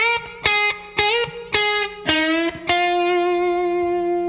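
Distorted electric guitar plays the second chunk of an intro lick, a run of five quick picked bends and releases ending in a long sustained note with vibrato, loud and close.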